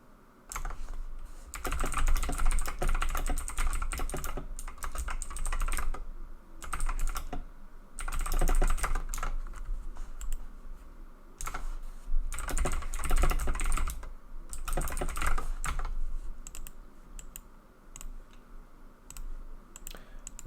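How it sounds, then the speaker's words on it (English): Rapid typing on a computer keyboard while chatting during a game session, steady close bursts of key clicks with short pauses between phrases, no talking. "Like now, for example, I'm typing to a buddy of mine."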